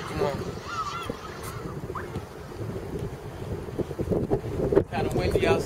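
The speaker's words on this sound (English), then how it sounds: "Kind of windy outside today." Wind gusts outdoors with a steady broadband rush and microphone buffeting that swells louder near the end, while someone talks in the background.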